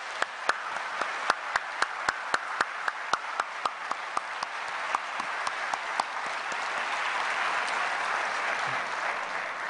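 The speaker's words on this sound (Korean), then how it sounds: "다시 한번 우리 강 목사님에게 격려의 박수." A church congregation applauds the pastor in encouragement during a Sunday evening service, steady sustained clapping from a crowd in a hall with some sharper individual claps standing out early on.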